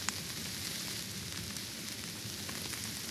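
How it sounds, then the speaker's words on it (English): Quiet, steady crackling and hissing of meat frying in a pan, a continuous sizzle with no voices. "you can hear it sizzling"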